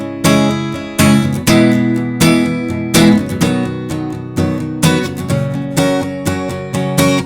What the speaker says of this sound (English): So the first line of the chorus will sound like this.